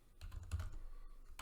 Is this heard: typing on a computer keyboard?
yes